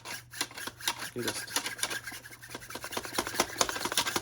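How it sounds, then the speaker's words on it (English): Continuous scraping and rubbing of hard 3D-printed plastic parts of a pump-action prototype sliding against each other, steady and close, with faint rasping pulses throughout. "that print-on-print sound that you're hearing, you can hear a bit of sliding"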